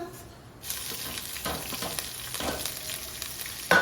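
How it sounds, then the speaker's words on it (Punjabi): Green chillies hit hot oil with cumin seeds, a soft hiss that jumps to a steady sizzle, with scattered pops and a sharp clatter at the end, no talking. "ਜੀਰਾ ਤਾਂ ਹੁਣ ਮੈਂ ਪਾ ਦੇਣੀਆਂ ਹਰੀਆਂ ਮਿਰਚਾਂ"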